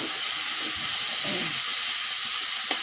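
Kohlrabi leaves frying in a pan, a steady loud hiss of sizzling oil that runs through the whole stretch with a few faint stirring knocks.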